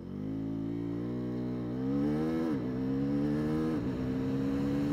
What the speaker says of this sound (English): let us check out the acceleration of this Swarthpillen 401